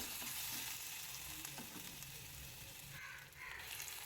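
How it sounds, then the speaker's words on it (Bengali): Nigella seeds and garlic paste frying in hot mustard oil, a steady low sizzle and crackle running throughout with faint scraping stirs, fairly quiet and with no talking. "এবার সর্ষের তেলের মধ্যে কালো জিরে ফোড়ন দিয়ে দিলাম, রসুন বাটা দিলাম"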